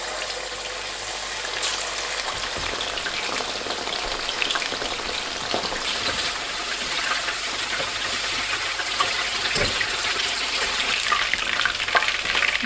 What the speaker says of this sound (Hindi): अब इसको मैंने ऑयल में फ्राई कर लेना इस चिकन को